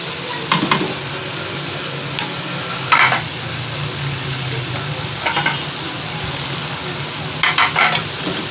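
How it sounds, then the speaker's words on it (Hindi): Green chili paste and onion frying in ghee in a large pot for chicken rice, a steady close sizzle with a few brief scraping stirs of a spoon breaking through at intervals, and no talking. "अब इसको अच्छे से भून लेते हैं ताकि सारे मसालों का फ्लेवर घी में निकल आए।"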